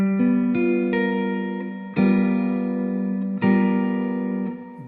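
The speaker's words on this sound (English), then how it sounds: "A dominant chord with a sharp 9 sounds like this." Dominant seventh chord with a sharp nine played on an electric guitar in a jazz II–V–I context, struck several times in a row with sustained harmonic tones ringing alone between strums.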